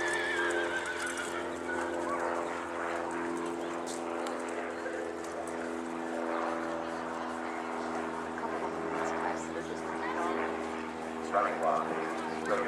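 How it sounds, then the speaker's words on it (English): Horses in a show ring neigh loudly while their hooves beat steadily at the running walk gait, with people talking over the whole stretch. "Bring your horses at the running walk."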